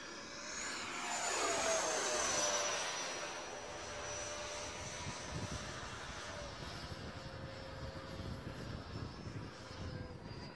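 An Alpha-Tech Eurofighter RC turbine jet model flies past at an AMA model airfield, its high turbine whine swelling loud overhead, then fading to a steady distant roar, with people talking faintly.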